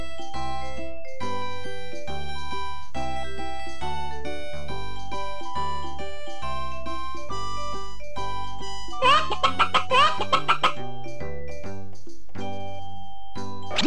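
Short burst of rapid chicken-like clucking from a Dora children's video game on V.Smile, rising briefly over a looping bright musical score of chimes and tones, moderately loud.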